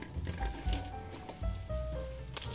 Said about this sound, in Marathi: आपण हे तोंडली तेलामध्ये 5 मिनिटं फ्राय करून घेणार आहोत।